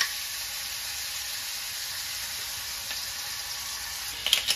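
Pork and garlic frying in a pan, a steady, even sizzle and hiss held throughout, with a few small clinks or stirring taps near the end.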